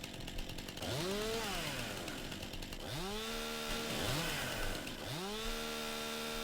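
Chainsaw cutting logs in Farming Simulator 19, the engine repeatedly revving up and settling as it bites in, four rising whines in a row at moderate loudness with no voices.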